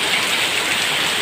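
Heavy typhoon rain pours down as a loud, dense, steady hiss that fills the whole moment with no break and no voices.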